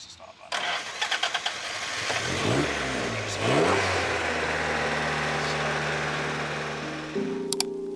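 An older car engine cranks, catches and fires up, then revs up and down before settling into a steady mid-pitched idle, close and loud, with a brief click near the end.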